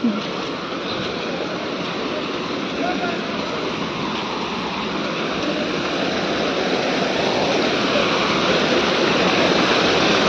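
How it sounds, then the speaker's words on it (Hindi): Floodwater rushes past homes in a steady, loud, continuous roar of torrential flow that fills the whole scene without letting up. "बाप रे इतना ज़्यादा पानी"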